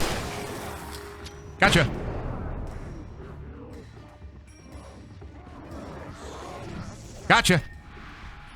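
Shotgun blasts in the horror game Alan Wake Remastered: two sharp, loud shots several seconds apart over a quiet, eerie background, with a man muttering between them.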